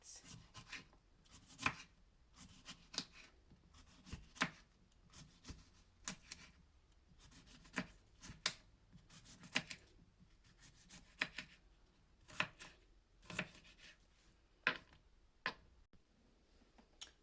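Knife cutting through an unpeeled cucumber on a board for juice, irregular crisp chops and taps spaced through the stretch, fairly near and moderately quiet, with no talking.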